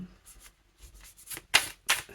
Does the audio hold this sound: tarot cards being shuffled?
yes